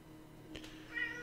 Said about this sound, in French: j'ai mon petit chat de l'espace qui me dit il a faim